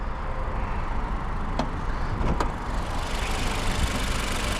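Acura ADX A-Spec 1.5 turbo engine running, a steady mid-pitched drone heard up close with a couple of brief clicks partway through and no voices.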